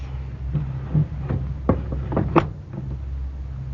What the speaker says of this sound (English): Go bolt the door